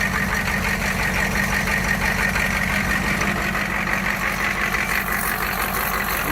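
A monster truck's diesel engine idles steadily, a close, continuous rumble with a rough, knocking vibration throughout.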